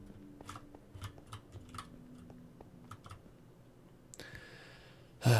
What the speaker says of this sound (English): My keyboards are probably super annoying to listen to.